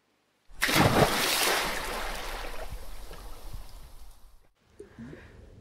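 A sudden splash of a body plunging into water, loud and close, followed by several seconds of churning, bubbling water that fades out, then faint trickles and sloshing.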